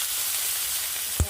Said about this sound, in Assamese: ভোলটোৰ লগত মই দুটামান মাছ দি ভাজিম